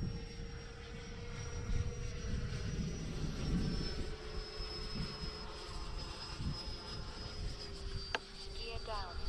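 An X-Fly Sirius RC model jet flies by with a steady turbine whine holding a high tone, fairly distant and faint, with outdoor background noise and no talking.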